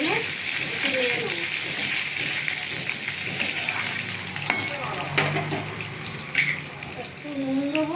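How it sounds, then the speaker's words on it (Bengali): Raw mango sizzles in hot spice tempering for aam dal while it is stirred. A continuous loud frying hiss runs throughout, broken by the scrape and clack of the spoon against the pan. "কিছু আম আমি একটু ফোড়নে একটু নেড়ে নেবো।"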